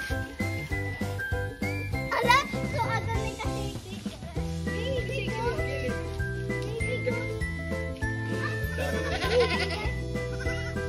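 Goat bleating mixed into loud ongoing music, with jingling and a voice, the bleats barely separable from the dense musical background.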